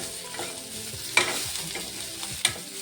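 Bitter gourd roasts in a pan while being stirred, with soft sizzling and two sharp scrapes of a spatula against the pan, close and otherwise quiet.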